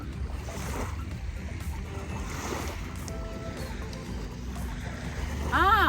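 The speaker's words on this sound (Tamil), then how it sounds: "இந்த அலை, இந்த சத்தம், இந்த மெல்லிய குளிர்மையான காத்து எல்லாம் சூப்பர்." Waves wash steadily onto the sandy shore of Innisfil Beach, Canada, with a gentle cool breeze blowing, a continuous soft surf that swells louder near the end.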